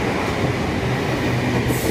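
A V-set electric passenger train passes through Cheltenham station, a steady, loud wash of wheel and rail rumble that fills the clip with no break and no voices.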